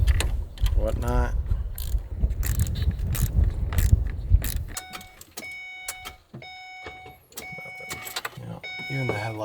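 A bus starter motor on a bus that won't start cranks and engages in repeated mechanical clicks and whirs, a rough grinding stretch giving way to intermittent clacks and tonal whines, close by under occasional talk.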